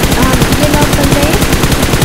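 Rapid automatic gunfire in a shooter video game, loud close bursts in a fast, steady rhythm that run continuously without a break.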